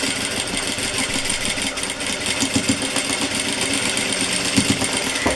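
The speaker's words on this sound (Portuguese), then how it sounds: "Eu vou costurar esse daqui pra vocês verem como vai ficar." A sewing machine stitches a fabric dish towel with a Seminole patchwork border, running steadily and loudly for several seconds with a fast, even mechanical whir and clatter, heard up close with no talking.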